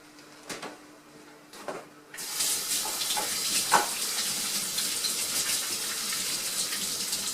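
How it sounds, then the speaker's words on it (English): Hands are washed at a kitchen sink: a few knocks and taps give way to a tap suddenly turned on, then a steady close rush of running water with faint splashing, and no talk. "Let me wash my hands and we'll get started."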